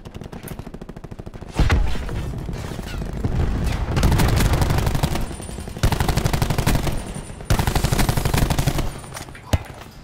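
Enemy gunfire in Call of Duty Black Ops 4 Blackout: long, loud bursts of rapid automatic fire in several separate volleys, with scattered single shots and players talking between bursts.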